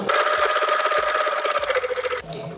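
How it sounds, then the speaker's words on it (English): A sewing machine stitches a diamond grid quilting design, running loud and close with a fast, even mechanical whir and needle pulse that slows and stops near the end. "Take your next couple of stitches and away you go."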